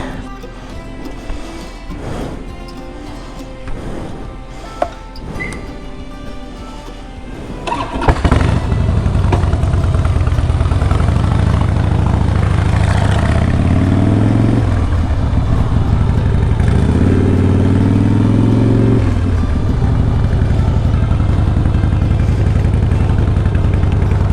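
A motorcycle engine is cranked and catches, then runs at a loud, steady idle close by with a couple of brief revs, set out for a night ride in wet weather.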